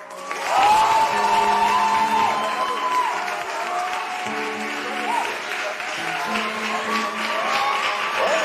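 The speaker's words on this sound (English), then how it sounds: "Our next contestant, a round of applause for Joe." A studio audience at a televised talent show applauds and cheers as a contestant is introduced, a loud, dense wash of clapping with whoops and voices over it.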